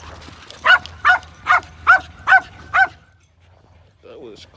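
A dog at an outdoor dog park barks six times in a steady, evenly spaced series, loud and close. A short whimpering yip follows after a pause.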